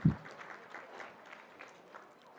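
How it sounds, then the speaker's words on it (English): An audience at an infant mortality summit claps after an opening sharp thump, a faint, thin patter of applause that stays low and slowly fades. "give yourselves a round of applause for being the friendliest place on earth"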